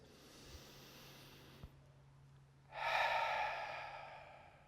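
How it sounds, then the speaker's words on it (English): A single deep, close breath is drawn in, rising as a loud airy rush after a few seconds of near silence and then slowly fading. "It's our breathing."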